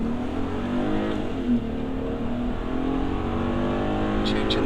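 An Audi TT with a DSG gearbox pulls hard up a hill from a junction, its engine note a loud, steady drone that climbs in pitch, heard close from inside the car.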